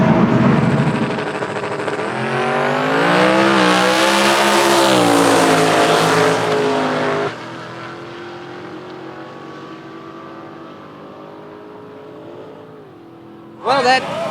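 Drag race car launching hard down the strip at a Sick Week event, a loud rising engine roar that holds for several seconds then drops away into the distance, with a brief burst of noise near the end.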